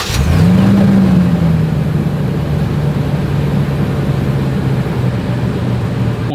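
Lexus GX 460 SUV, a 2022 model, exhaust revving up sharply near the start, then settling into a steady, loud low drone close by with no talking.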